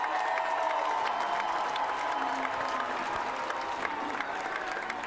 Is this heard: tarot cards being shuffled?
no